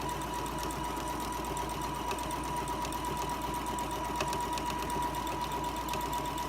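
A sewing machine runs at a moderate, steady pace, stitching fabric around a circle with a 2.5 stitch length; its even mechanical chatter carries on continuously and close by, with no talking.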